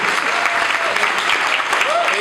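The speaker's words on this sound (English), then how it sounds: "let's give him a round of applause" An audience claps steadily during a student presentation about a truck project, a dense, even wash of applause lasting a couple of seconds with faint voices mixed in.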